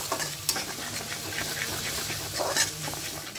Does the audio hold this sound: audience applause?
no